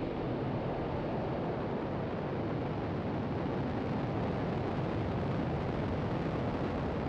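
A SpaceX Falcon 9 rocket's engines ignite at a Starlink launch, heard as a continuous broad, loud roar that holds steady without a break.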